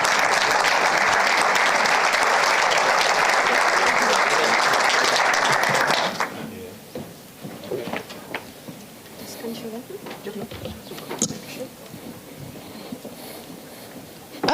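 An audience at a makeathon final pitch event claps loudly and steadily for about six seconds, then the applause stops and a speaker's voice carries on in a quieter room.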